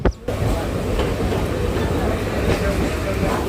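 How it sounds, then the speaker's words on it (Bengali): Loud, continuous rumble of a Kolkata suburban train running on rails as it enters Ballygunge Junction, with faint rhythmic clatter throughout, heard from on board. "আমাদের ট্রেন এবার প্রবেশ করছে বালিগঞ্জ জংশনে"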